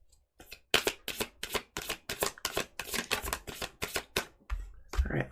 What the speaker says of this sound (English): Shuffling out the cards now for Aries.